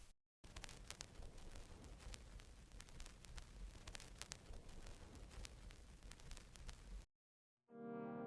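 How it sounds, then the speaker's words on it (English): Vinyl noise for a vintage texture: a continuous bed of hiss and dense crackle with scattered pops, steady and fairly quiet, running alone for several seconds before cutting off. "the last thing that I added is the vinyl noise"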